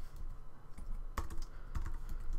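JavaScript code being typed on a computer keyboard, a quick close patter of key clicks with a couple of louder strikes and no talk.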